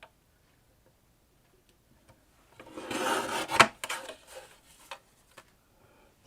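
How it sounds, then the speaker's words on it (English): A paper trimmer slices a thin sliver from patterned paper, a short rasping slide lasting about two seconds followed by a few soft ticks and rustles, close and fairly quiet after near silence. "I'm going to take my trimmer and I'm going to trim off a sliver of this"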